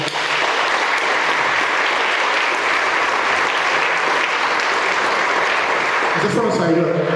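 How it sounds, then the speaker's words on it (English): A large audience gives a loud, sustained round of applause after a health talk. The dense clapping holds steady for about six seconds before cutting off abruptly, leaving a brief voice. "Let's get a massive round of applause for that."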